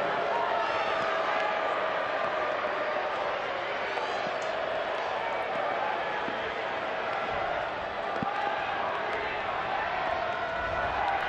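A home soccer crowd in a stadium murmurs and jeers in displeasure after a yellow card, a steady distant roar throughout with commentary talk over it.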